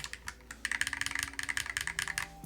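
Fast, steady typing on a Frog Leggera mechanical keyboard with bright switches, a dense run of crisp clacks close up that starts sparse and then speeds into a continuous patter, with no talking.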